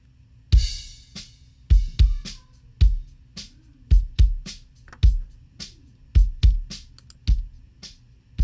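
Kick drum captured through both a kick-out and a kick-in microphone, striking in a steady, uneven groove of about fifteen punchy hits with deep low thumps and bright beater clicks, heard alone and close.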